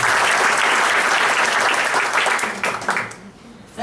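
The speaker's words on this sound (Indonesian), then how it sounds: "Ya, tepuk tangan buat kalian." An audience breaks into loud, dense applause, a steady wash of many hands clapping close by that thins out and fades over the final second.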